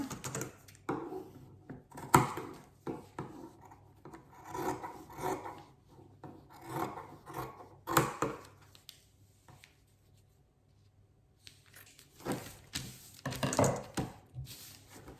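Fabric being cut for shorts, with bursts of rasping, crunching scissor strokes and rubbing of cloth, close and intermittent with brief quiet gaps between cuts.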